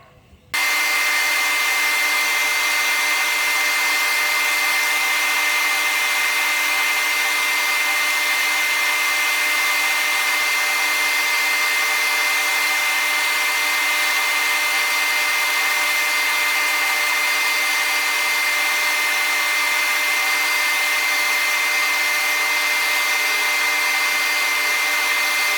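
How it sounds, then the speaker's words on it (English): A power sander works a template down to its marked lines, running as one loud, steady whine that holds without a break for about 25 seconds after a short start. "now I'm going to sand it down to the lines"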